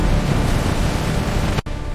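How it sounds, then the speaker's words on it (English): Ocean waves near a rocky shore surge in a steady, loud, broadband wash with wind across the microphone, broken by a brief dropout near the end; no voices. "Waves are getting bigger."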